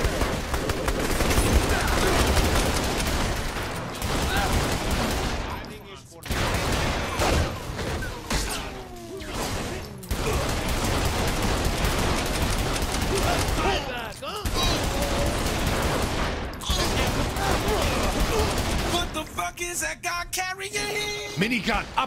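Minigun fire from the video game Saints Row 3 rages in a loud, continuous hail of rapid gunfire with booming impacts, lasting nearly throughout with brief drops before more bursts, under battle chaos and voices.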